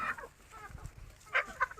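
Free-range country chickens waiting to be fed cluck in a few short, close bursts over a quiet farmyard background.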